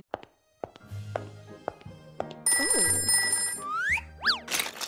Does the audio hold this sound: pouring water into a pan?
no